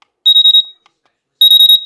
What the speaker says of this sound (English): You have here this center button, which is your alarm.